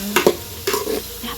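Beans frying in a pan, short bursts of stirring and scraping over a low sizzle, close up, with two quick knocks near the start.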